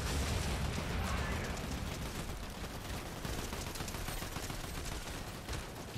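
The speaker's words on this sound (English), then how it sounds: "Stop shooting me!" Gunfire in Fortnite, dense rapid crackling shots forming a steady, fairly faint barrage that runs throughout with no pauses.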